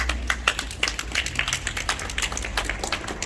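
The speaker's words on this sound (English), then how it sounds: "genuinely give yourselves a round of applause" A small audience at a memorial outside Pontypridd Library gives a round of applause, scattered individual claps close by rather than a full roar, lasting a few seconds.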